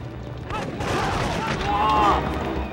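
Gunfire in the video game Cold Winter, set during fireworks, a dense burst of shots and booms blending into a steady rumble, mixed with voices and game sound.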